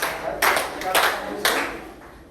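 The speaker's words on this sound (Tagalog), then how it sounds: "Maraming bigyan ng palakpak para sa pangalawang pakay" Several sharp hand claps in a quick cluster, followed by a short pause and another burst of clapping, close and fairly loud, like a small audience in a classroom-style gathering.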